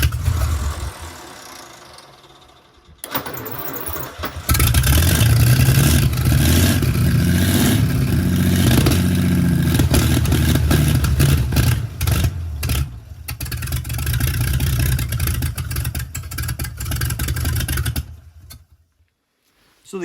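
An old American LaFrance V12 engine cranks, catches and then runs with a loud, rough, deep idle and revs, sputtering and dropping off near the end before cutting out.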